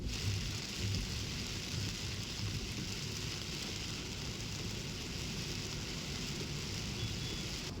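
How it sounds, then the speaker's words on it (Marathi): Steady rain showers fall over Mumbai and its suburbs, a dense, continuous hiss of drops on surfaces that holds at an even level throughout, close and enveloping, with no voices. "मुंबईसह उपनगरात काही ठिकाणी पावसाच्या सरी बरसू लागल्या"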